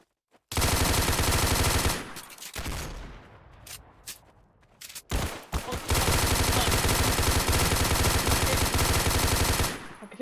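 Roblox gunfire rattles in loud, sustained automatic bursts, with a brief gap of scattered single shots in the middle before the heavy firing resumes.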